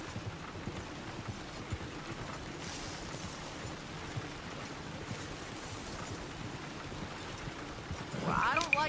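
Horse hooves clip-clopping at a slow pace on a road in Red Dead Redemption 2, a soft steady rhythm under ambient outdoor sound, with a voice speaking near the end.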